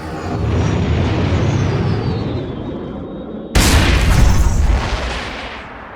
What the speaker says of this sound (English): The whole thing's gonna blow.